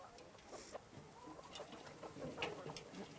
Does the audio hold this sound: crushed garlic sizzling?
no